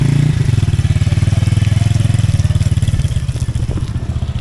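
A motorbike on a mountain road rides close by, its engine chugging loudly in a fast, even pulse, then growing rougher and fading a little as it moves off.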